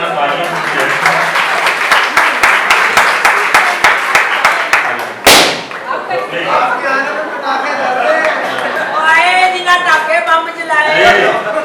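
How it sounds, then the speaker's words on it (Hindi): An audience at a May Day gathering for domestic workers in a press club applauds to welcome a guest, loud sharp claps that stop and give way to talk and chatter. "आप सब तालियां"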